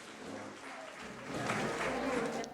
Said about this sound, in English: They clapped? Clap at the end of class?